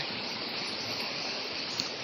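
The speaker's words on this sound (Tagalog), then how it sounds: "Malakas na agos ng tubig at saka ulan." Strong floodwater rushes along after Typhoon Verbena, a dense, steady roar of flowing water filling the whole clip, loud and continuous with no pauses.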